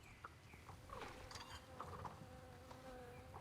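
Angry bee buzzing in a video game, faint wavering buzz that comes in short bursts over soft background noise, no voices.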